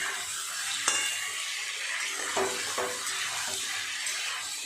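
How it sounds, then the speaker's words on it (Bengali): Large chicken pieces sizzle steadily in a hot pan, a continuous close hiss broken by a few soft stirring knocks, with no talking. "চিকেনটা একটু ভেজে নিয়েছি, চিকেনের রঙটাও পাল্টে গেছে"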